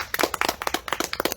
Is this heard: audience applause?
yes